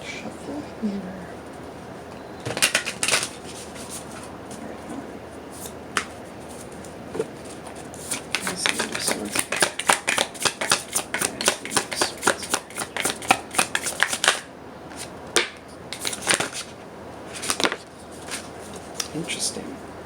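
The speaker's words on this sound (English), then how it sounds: "Go ahead and shuffle here." Tarot cards being shuffled up close, with bursts of crisp riffling and flicking clicks arriving in irregular clusters, dense through the middle and sparser toward the end, over a quiet room background.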